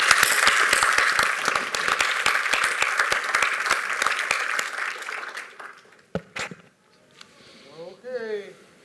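Sustained audience applause at a closing plenary of a conference, dense and loud for about five seconds before fading into scattered claps and brief speech near the end.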